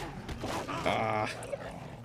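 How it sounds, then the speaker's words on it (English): Wolves in a cowboy video game give a short, strained canine vocal, a brief whine-like growl over game ambience and rumbling background sound, with no talk. "Goddamn wolves."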